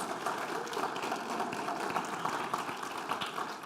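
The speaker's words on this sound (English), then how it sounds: "Let's give her a round of applause, please." Conference audience applauds in a hall, a steady, dense wash of many hands clapping that holds at an even level throughout with no talking.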